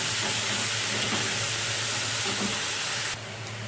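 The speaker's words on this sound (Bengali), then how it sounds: "শাকের মধ্যে স্বাদ মতো তেল দিয়ে অল্প পরিমাণ নেড়ে চেড়ে একটুখানি হালকা সেদ্ধ করবো জল দিয়ে।" Leafy greens cooking in a pan with oil and a little water give off a steady, even hiss at moderate volume, which drops off abruptly near the end.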